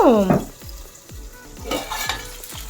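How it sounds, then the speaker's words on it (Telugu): Coconut, onions and green chilies frying in a pan for chutney, with a close, steady sizzle and a series of scraping stirring strokes from a utensil against the pan. "కొబ్బరి చట్నీకి మనము కొబ్బరి ఉల్లిపాయలు పచ్చిమిరపకాయలు ఇవన్నీ వేసి వేయించుకుంటున్నాం"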